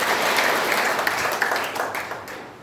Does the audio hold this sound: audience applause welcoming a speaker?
yes